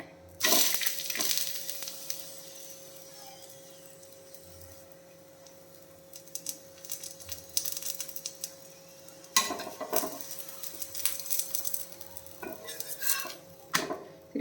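A green gram chapati cooks in a pan with a little ghee: a faint continuous sizzle under sharp utensil clatters and scraping as it is turned, with bursts of clinking near the start and toward the end.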